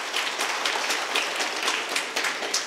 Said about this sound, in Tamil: நல்லா கைத்தட்டுங்க